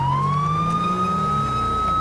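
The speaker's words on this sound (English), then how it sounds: "listen to that CHP siren" A CHP police siren from an LSPDFR mod in a video game wails in a steady, loud, continuous tone that rises slightly, with no talking over it.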